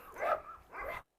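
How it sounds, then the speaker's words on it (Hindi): A dog gives two short, close barks in quick succession, the first louder and the second a little softer, before a sudden cutoff. "कार्लोस बहुत मिलनसार कुत्ता है।"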